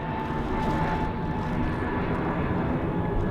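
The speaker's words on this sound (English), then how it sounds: "the Aer Lingus that was inbound from Munich has gone around the Neo" An Aer Lingus Airbus A320neo inbound from Munich goes around at Dublin Airport, its engines a continuous loud, even roar with a faint steady tone throughout, no voices.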